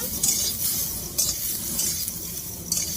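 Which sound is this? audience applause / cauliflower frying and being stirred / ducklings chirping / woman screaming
cauliflower frying and being stirred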